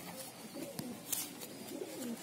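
Soft, low pigeon coos repeat a few times close by, gentle and throaty, over quiet background noise.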